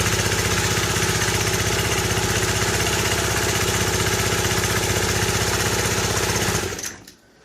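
Vintage 1965 Honda E300 generator idling at low RPM, a steady, even engine putter running close for about seven seconds before it dies away.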